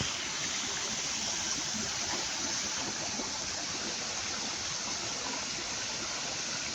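A small waterfall at Sentosa Nature Discovery in Singapore rushes in a steady, close, broadband wash of falling water that stays even throughout, with no voices.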